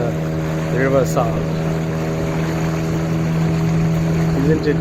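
A steady low boat engine drone hums throughout, entering the River Sal from the Arabian Sea, with a few faint voices and calls over it.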